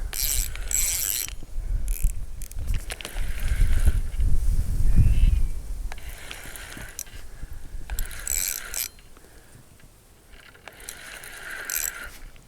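A fishing reel ratchets in quick clicking bursts as a hooked fish runs on a hot summer day, the bursts coming and going with a low rumble in between.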